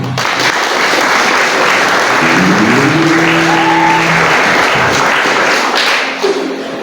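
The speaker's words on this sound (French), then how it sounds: "pouvez applaudir pour la chorale." A congregation at a Catholic Mass in a seminary applauds the choir with sustained, dense clapping filling the church, loud and continuous, fading slightly near the end, with organ tones sounding underneath.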